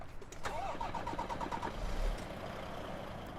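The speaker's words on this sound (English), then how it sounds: "But let me just get this thing started. Listen to this." A DAF truck engine in Truck Simulator 2 cranks with a short whine and catches, a row of electronic beeps sounds, then a low diesel rumble settles into an idle, fairly quiet with no talking.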